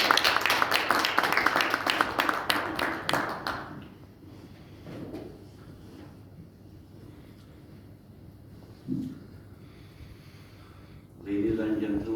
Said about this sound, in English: Please give Mehmet a warm round of applause.